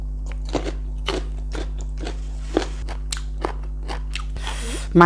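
Someone repeatedly bites and chews fresh, crunchy cucumber at close range during an eating show, producing a quick series of crisp crunches over a low steady hum.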